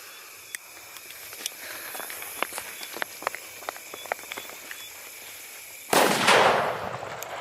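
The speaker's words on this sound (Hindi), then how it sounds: "बहुत ही जोरदार धमाका किया ये पटाखा नाइट के अंदर।" At night, a foil bomb firecracker's fuse sparks and crackles with sharp little pops for several seconds, then it bursts with a loud, sudden blast that rolls away.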